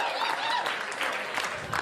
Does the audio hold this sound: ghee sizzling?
no